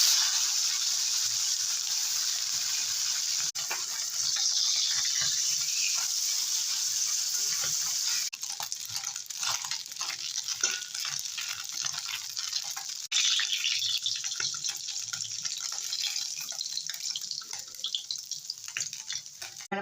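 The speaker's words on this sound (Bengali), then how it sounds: "তেল গরম হয়ে গেছে, মাছ দিয়ে দেবো।" Bele fish coated with salt and turmeric sizzles in hot oil with a loud, steady hiss that continues unbroken for the whole stretch, with no voices over it.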